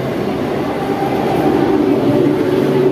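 A train arriving at a junction station rumbles steadily at close range, a continuous low mechanical roar with faint rail clatter and no voices.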